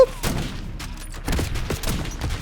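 An LR 7.62 rifle fires in the video game Black Ops 6, several sharp shots in quick succession, loud and close.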